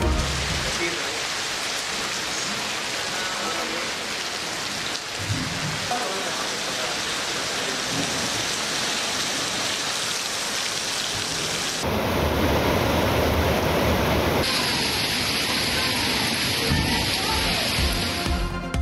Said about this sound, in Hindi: शहर इक़्तिदार में बादल बरसे और ओले भी गिरे।